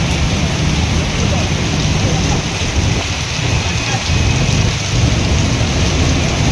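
Heavy tropical downpour with strong wind, heard steadily and loudly throughout as a dense, continuous roar, with no distinct thunderclap standing out.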